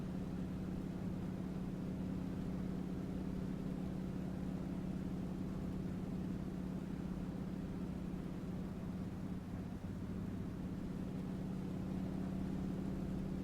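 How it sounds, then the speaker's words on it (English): A T-6 Texan trainer engine in the A2A flight simulator drones steadily and faintly at idle with the canopy closed and the mixture being leaned, a constant low hum with only slight dips. "So about there, you could hear the engine."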